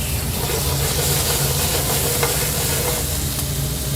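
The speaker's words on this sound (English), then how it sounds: "That's called stir frying" Meat stir-fries in canola oil for lo mein, a loud, continuous, close sizzle and hiss over high heat that stays even for the whole stretch.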